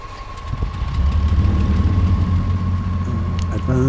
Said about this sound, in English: Okay. Start engine.